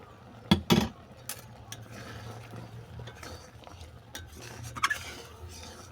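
A spoon stirs carrot milk kofta puli in a pot, giving a few sharp scrapes and clinks at the start and again near the end over a low, steady simmering background.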